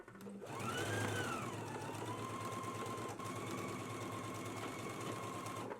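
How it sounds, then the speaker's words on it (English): A sewing machine stitches a pocket seam along a slanted edge at a 5/8-inch seam allowance, running as a steady, continuous mechanical whir with a rising pitch at the start and no talking over it. "we're going to be stitching right here along this slanted edge"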